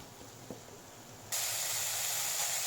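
Drumstick leaves and banana flower being stir-fried in an open pan, a steady soft sizzle that jumps abruptly to a louder, brighter hiss partway through and stays loud to the end.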